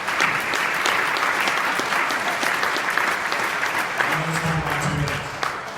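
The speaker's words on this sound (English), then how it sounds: "So I'd like everybody to give themselves a round of applause for doing that" Sustained, dense applause from an audience at a congressional candidates' forum for Ohio's 12th district, steady and loud throughout, with a few voices calling out faintly near the end.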